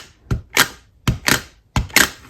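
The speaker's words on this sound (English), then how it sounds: "That sound is because it's a sticky pad and it lifts it." A rubber stamp lifting off a sticky ink pad, heard as three separate short tacky peeling clicks, each a quick double snap, close and alone in quiet.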